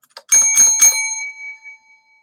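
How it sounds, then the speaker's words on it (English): A bicycle bell rings close up, a quick run of bright metallic dings that ring out and fade. "I kind of like the bell."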